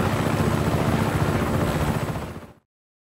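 Helicopter in the video game Just Cause 3, a loud close rotor roar with rapid chopping pulses that cuts off abruptly after about two and a half seconds.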